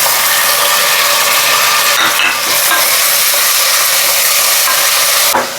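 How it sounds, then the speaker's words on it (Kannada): Onion and tomato frying in a pan for methi bath, a steady loud sizzle and hiss with a few stirring scrapes, close up and without talk. "ಈರುಳ್ಳಿ ಫ್ರೈ ಆಗಿದೆ, ಅದ್ರ ಜೊತೆಗೆ ಟೊಮೊಟೊ ಹಾಕ್ಕೊತಾ ಇದ್ದೀನಿ."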